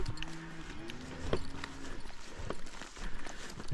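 Cattle stomping and shuffling about on a mountain trail nearby, a run of heavy hoof thuds and scuffs at close range, moderately loud with brief bursts of movement in the outdoor quiet.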